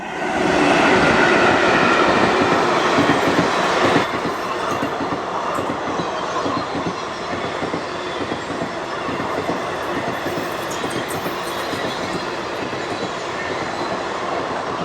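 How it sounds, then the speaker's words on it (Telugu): A Tirupati–Guntakal passenger train arrives, rumbling and clattering loudly nearby, the heavy rolling noise easing slightly after a few seconds but continuing steadily to the end. "వచ్చేస్తుంది తిరుపతి గుంతకల్ ప్యాసింజర్."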